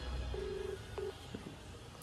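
Telephone dialing tones while placing a call, a couple of short electronic beeps, one longer and one brief, followed by faint smaller tones, quiet and close over low background hiss.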